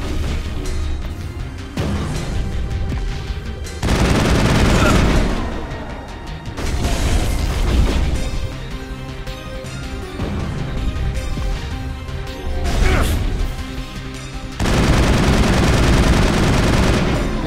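Combat in the video game Mass Effect at a Prothean dig site: bursts of rapid gunfire and rocket blasts come in several loud clusters, with booming hits between quieter stretches.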